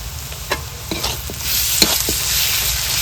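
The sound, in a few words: ginger-garlic paste and whole garlic frying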